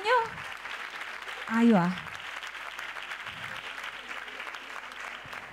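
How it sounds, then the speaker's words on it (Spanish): Steady applause from a room full of people at a carnival opening proclamation event, clapping throughout, with a brief spoken voice near the start. "Un fuerte aplauso a ella."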